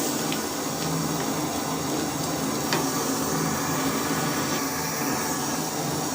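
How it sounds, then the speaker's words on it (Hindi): Black chickpeas frying in a hot pan, giving a steady broadband sizzle with faint stirring scrapes and occasional light clicks, fairly quiet and continuous with no voices. "अब हम इसमें ऐड कर रहे हैं काले चने। तो इन्हें जल्दी से पका लेंगे।"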